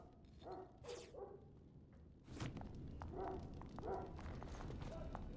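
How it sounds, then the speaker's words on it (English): A dog barks in the Dragon Age: Origins video game, a few short barks spread over a few seconds. They sit over a steady low ambient rumble with faint footstep-like taps, and the level is fairly quiet overall. "My dog! My doggo!"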